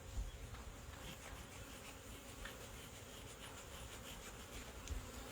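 Honeybees swarm around an open hive, a steady, faint buzzing hum of many insects close by, with occasional individual bees passing nearer, and no talking.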